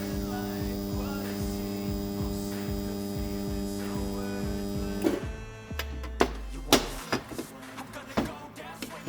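A 1950s/60s three-phase Triangle Monoflex spot welder heating clamped metal gives a steady loud electrical hum with a pulsing buzz, then drops away into clanks and knocks of the machine being handled.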